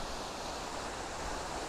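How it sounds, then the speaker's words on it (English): Steady, roaring rush of Penllergaer Waterfall crashing down, a constant broadband wash with no pauses or voices. "you can hear the sound of Penllergaer Waterfall crashing down"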